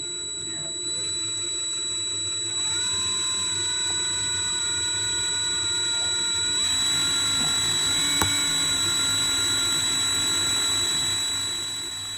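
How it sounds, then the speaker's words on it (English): A steady, high-pitched power drill whines continuously for several seconds as it drills through metal, its pitch shifting slightly partway through, close and loud with no talking. "So all I want to do is drill enough to get the car apart here."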